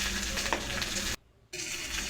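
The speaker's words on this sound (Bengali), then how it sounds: "কেটে রাখা একটা টমেটো দিয়ে দিলাম" Chopped tomato fries with stalks in a pan, giving a loud close sizzle with a little stirring, cut by a brief silent gap before the frying resumes.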